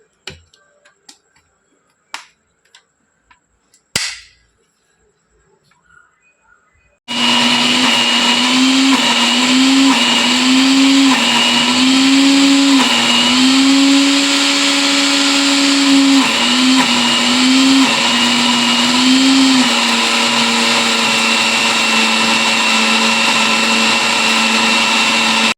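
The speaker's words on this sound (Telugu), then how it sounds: "ఇప్పుడు మూత పట్టేసి మిక్సీ పట్టేసుకుందాం" Mixer grinder blending roasted amla and fenugreek leaf chutney with salt and no water. A few faint clicks come first, then a loud, steady whirring grind runs continuously to the end.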